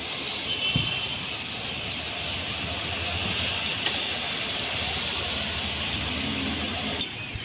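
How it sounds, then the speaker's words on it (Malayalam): Heavy rain falling steadily as a dense, even hiss, continuous and fairly close, with no clear voices over it. "അങ്ങനെതാ നല്ല മഴ കേട്ടോ"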